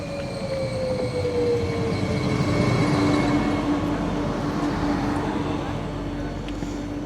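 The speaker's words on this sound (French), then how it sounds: "Un peu moins de 2 heures à bord d'un Omnéo" A regional passenger train, an Omnéo, rumbles along steadily with a tonal whine that slowly falls in pitch, wheels humming on the track, heard from inside the carriage.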